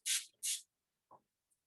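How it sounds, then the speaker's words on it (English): A spray bottle gives two quick, bright hissing pumps close by, followed by a faint rub and a tiny tick, with no talking. "spray this"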